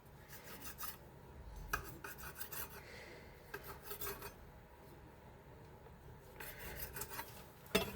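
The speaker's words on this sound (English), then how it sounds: "when you're rolling out your dough, make sure you don't over roll it" Mandazi dough rolled out for Kenyan fried snacks, giving a soft repeated rasping rub of pin over dough on a board, in steady strokes with a few light knocks, close and fairly quiet.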